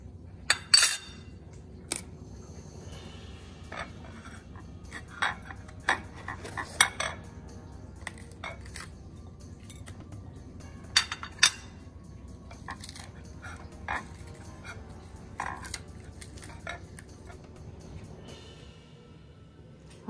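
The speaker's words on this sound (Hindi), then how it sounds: "1 चम्मच की मदद से इसके अंदर से सारे बीज कुरच के निकाल देंगे" A metal spoon scrapes and clinks inside red chillies, pulling the seeds out for a Marwari red chilli pickle, making scattered sharp ticks and scratches over a quiet kitchen background, with no talk.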